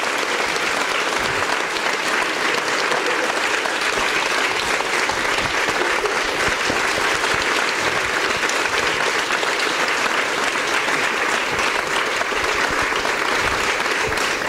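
Sustained audience applause for the authors at a book presentation, a dense, even wash of clapping lasting the whole stretch with no talk over it.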